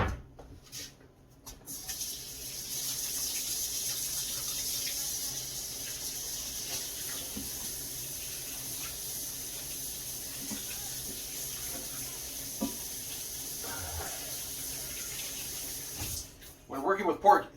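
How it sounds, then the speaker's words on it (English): A kitchen tap runs steadily for hand washing with warm water and soap after handling pork, a soft continuous water rush that stops near the end. "When working with pork, it's super important you wash your hands. Warm water with soap."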